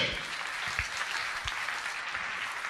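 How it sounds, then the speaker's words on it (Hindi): Audience at a religious initiation festival gathering applauding with hands raised, a dense continuous patter of many clapping hands at moderate distance, fairly soft, with faint voices underneath. "तो आपकी तालियां दोनों हाथ ऊपर उठा करके।"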